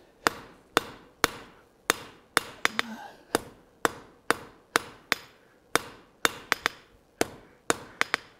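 Hammer blows forging iron on an anvil at a blacksmith's forge, shaping a colonial style trivet: a steady run of sharp, ringing metallic strikes, about two per second, loud and close with brief ringing decay between hits and no talking.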